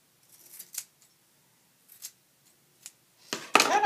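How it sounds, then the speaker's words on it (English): A pair of sharp dollar-store scissors snips through natural, permed hair in a few quiet, separate cuts, then a louder crisp close-up snip and rustle at the end, with no talking. "I'm going to use these scissors."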